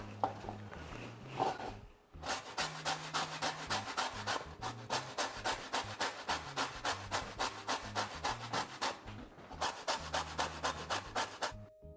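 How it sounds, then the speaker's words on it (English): Lemons are zested on a grater with steady rhythmic rasping strokes, close and loud, in fast repeated runs broken by brief pauses, while low background music plays beneath. "We're going to grab our lemons and zest them."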